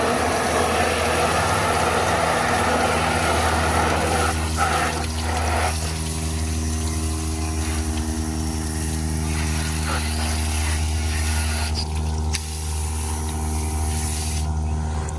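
A pressurized water stream sprays onto the wheels of an RC car to clean them during a brake job, a steady loud hiss with an engine-like hum and pump drone underneath, continuous throughout.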